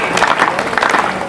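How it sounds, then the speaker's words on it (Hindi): A short burst of dense audience clapping fills a comedy poetry show in Maharashtra, loud and close, with crowd noise and voices mixed in. "थोड़ी तालियां तेज कीजिए।"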